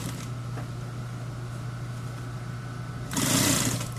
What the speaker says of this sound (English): backstitch it until the material is thin enough it will fit under the presser foot